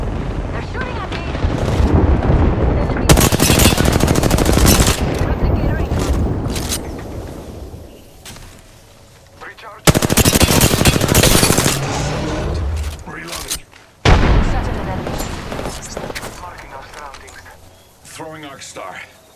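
Sustained bursts of gunfire in a shooter video game, loud and dense with rapid automatic fire and booming impacts, broken by short lulls and sudden resumptions.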